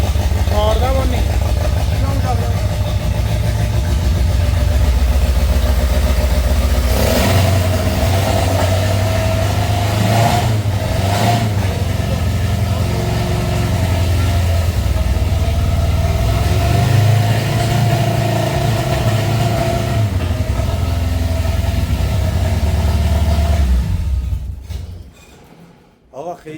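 Homemade DIY helicopter engine idling roughly with a faulty stepper motor, a loud continuous uneven engine drone that fluctuates before dying away near the end, with voices talking over it.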